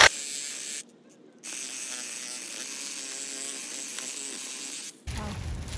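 A branch is cut on an overgrown peach tree with a close, buzzing, rasping sound. The cutting runs steadily, stops for a brief pause, then resumes before ending in a rougher clatter.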